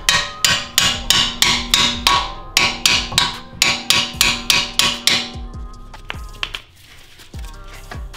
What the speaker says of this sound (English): Grab your chisel, put it back here, and tap down on it.